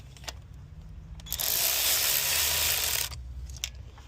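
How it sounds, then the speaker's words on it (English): An electric ratchet snugs down bolts during a coolant sensor and thermostat replacement on a 2017 Chevy Camaro. There is one close, loud whirring burst of about a second and a half, with quiet clicks and handling noises before and after. "Do not torque it with this electric ratchet."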